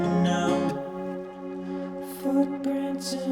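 Textured synth patch played on a cheap MIDI keyboard rings out in sustained, layered tones, with a chord change early on and airy noisy swells coming in later.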